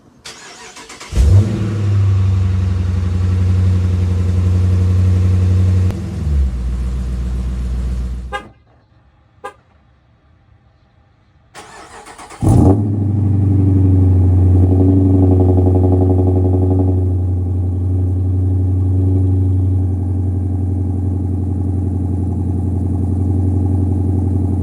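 A Chrysler 300 S with a 5.7 Hemi V8 and MagnaFlow exhaust cold-starts, cranking and roaring loudly, holds a rumbling idle, then cuts off. After a short pause it fires up again and settles into a steady, deep idle.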